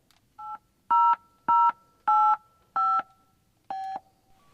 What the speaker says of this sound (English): It does have the car phone in here, which is awesome, and it works.